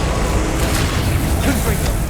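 A Confringo blasting curse detonates in Hogwarts Legacy, a loud, rumbling explosion with crackling debris that fills the whole short moment.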